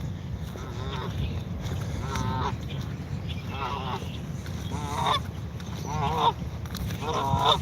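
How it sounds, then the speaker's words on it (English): Geese near a bass fishing spot honk repeatedly in loud, irregular bursts over a steady low rumble of wind or water, calling close by for several seconds. "These geese might attack me."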